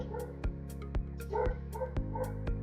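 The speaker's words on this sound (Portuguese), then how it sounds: "Desculpa, meu cachorro tá latindo aí." A dog barks and yips repeatedly at a quick, fairly regular pace, somewhat distant and faint over a low background hum.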